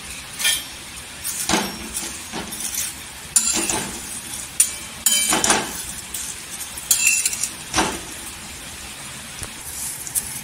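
Vermicelli fries in hot oil in a pan while a metal spoon stirs it, giving irregular clinks and scrapes against the pan over a faint crackle, close and fairly quiet, with no talking.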